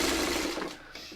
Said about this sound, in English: I'm just going to take it off the sewing machine